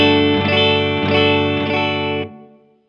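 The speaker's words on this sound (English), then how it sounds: "This means Fender twin reverb amp and sounds like this." Clean electric guitar chords ring out through a Fender Twin Reverb amp, three strums with lush reverb before fading away.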